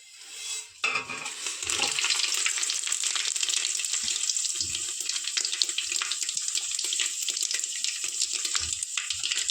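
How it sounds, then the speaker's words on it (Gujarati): Tempering spices and a dry red chili drop into hot oil for a Gujarati mixed vegetable dish, setting off a loud, steady sizzle that starts abruptly after a brief pause and continues unbroken, with no talking. "આપણું તેલ સરસ ગરમ થઈ ગયું છે તો આપણે વઘાર માટેનો મસાલો છે ને અલગ કાઢીને રાખ્યો તો એ આપણે નાખી દઈશું"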